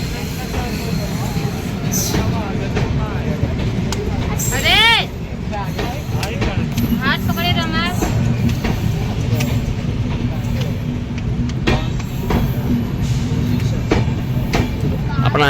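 An Indore–Pune passenger train rumbles at a busy platform with clattering and a horn-like tone, while people talk nearby throughout.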